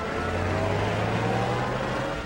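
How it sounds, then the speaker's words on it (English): A car engine from a 1939 film serial drones steadily, a low continuous hum with a faint whine, running alone without talk. "Our car's running wild."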